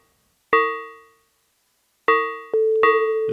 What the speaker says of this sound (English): And that sound is very sort of metallic. That's what we were expecting from FM.